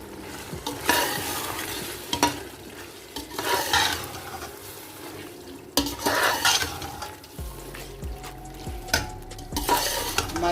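Noodles being stirred with lemon juice in a pan, with gentle frying sizzle and repeated soft scraping strokes of a utensil against the cookware, close and steady without talk.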